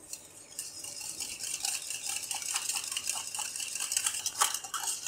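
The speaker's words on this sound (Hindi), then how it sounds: "अच्छे से आप मिक्स कर लें क्रीम और दही और म्यूनीस को" A spoon stirs a thick mixture of cream, yogurt and mayonnaise in a bowl, giving a steady run of close scraping and light clinking against the bowl, with no one speaking.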